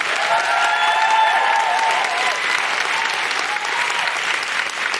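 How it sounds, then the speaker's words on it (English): Audience at a live comedy podcast recording applauds a guest doctor, steady dense clapping held at an even level throughout, with faint whoops on top. "Could I have a big, big round of applause for Dr Bob Gill?"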